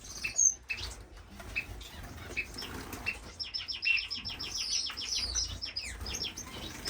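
European goldfinches and goldfinch mules flutter and chirp inside cages in a bird room, wingbeats rustling in bursts among a run of quick, bright chirps and short calls, fairly close and with no talking.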